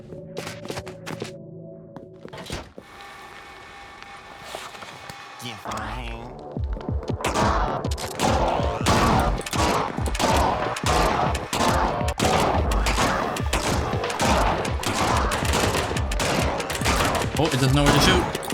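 Enemy gunfire in Gunbrella starts after a quieter musical stretch, then rapid shots rattle in a dense, loud, steady stream that carries to the end.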